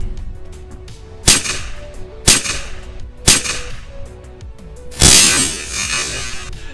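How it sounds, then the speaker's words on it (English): A semi-automatic rifle with a very light spring fires four sharp, thin cracks spaced about a second apart, popping like a cap gun, with the last report ringing out longer. "Sounds kind of like a cap gun."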